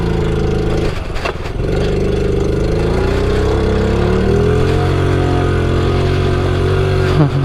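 A 1993 Honda Z50R mini motorcycle's small single-cylinder engine idles close by with a steady, loud putter, its pitch wavering slightly as the idle rises and settles.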